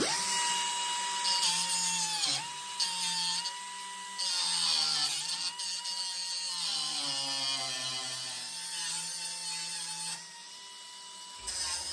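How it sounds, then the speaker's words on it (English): Power grinder cleaning up bodywork on a 1972 VW Super Beetle, a loud, steady, whining drone that runs almost unbroken for about twelve seconds, its pitch dipping and wavering slightly as the tool bears down on the metal. "we're going to clean that up a little with the grinder now"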